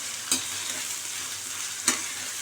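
Onion and green chillies sauté in a pan with a bright, steady sizzle, broken by two distinct scrapes of a stirring spoon.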